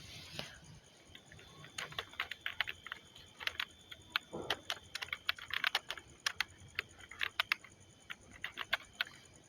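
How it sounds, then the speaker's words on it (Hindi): Typing on a computer keyboard in Notepad: quick bursts of crisp plastic key clicks in uneven runs, close and clear against a quiet background, with short pauses between flurries. "अब हम यहाँ पे कुछ भी टाइप करके अपनी फाइल में टाइप करेंगे।"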